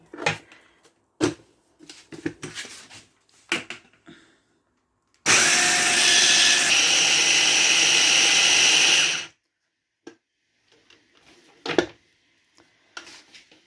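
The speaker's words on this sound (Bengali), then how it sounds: "দুই পাটের ডালটা ব্লেন্ড করে নিব" Soaked lentils (dal) are ground in an electric blender in a home kitchen, making one loud, continuous whirring burst of about four seconds. Quiet scattered kitchen clatter comes before and after.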